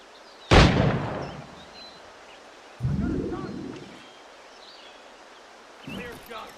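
Gunfire in Assassin's Creed Black Flag: three separate booming shots a few seconds apart, the first loudest, each with a rolling decaying tail over a quiet outdoor background.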